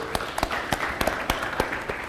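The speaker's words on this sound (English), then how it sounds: "Please, a round of applause for him." Applause from an audience at a cup draw event, sparse individual claps popping over a broad crowd clatter, fairly close and steady for a couple of seconds.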